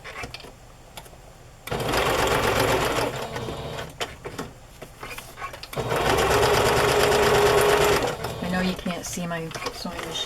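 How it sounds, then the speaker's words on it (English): A sewing machine stitches paper ephemera for a junk journal in two loud, rapid bursts of needle clatter, separated by quieter handling noises and a voice talking between runs. "my sewing machine."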